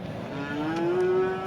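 A cow at a livestock market in Paxtaobod, Andijan gives one long, rising moo, close and clear over faint background noise.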